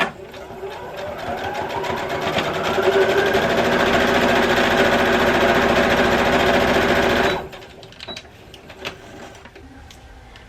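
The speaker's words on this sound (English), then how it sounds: "sew it together along the curved edge using your seam allowance" A sewing machine straight-stitches layers of cotton lining fabric along a curved edge, running as a loud, steady, close mechanical whir for about seven seconds before stopping, followed by faint handling clicks.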